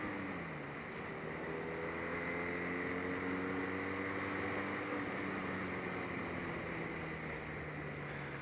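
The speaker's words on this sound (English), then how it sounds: "with this 1200 boxer engine" A 2018 BMW R nineT motorcycle with a 1200 boxer engine accelerates steadily while riding, its engine note climbing through rising tones under constant wind rush, loud and close for the whole stretch.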